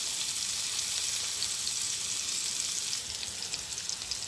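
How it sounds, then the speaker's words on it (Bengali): Vegetables fry in an uncovered pan in a village kitchen, giving a steady, close, even sizzle that runs throughout with no talk. "এখন আস্তে আস্তে ভাজি করব"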